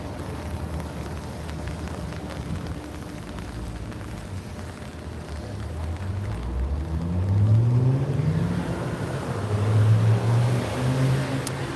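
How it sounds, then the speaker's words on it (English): Busy city traffic in the rain with buses passing, a steady wet road roar building as heavy vehicles rumble by and engines rise in pitch, fairly loud and close with no talking. "I feel like the buses are more noisy in the rain"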